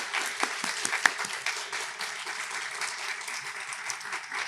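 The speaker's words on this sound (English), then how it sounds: "So let's give these folks a round of applause." Applause from a lecture audience, steady and fairly distant, a dense patter of many hands that holds evenly from start to finish with no voices over it.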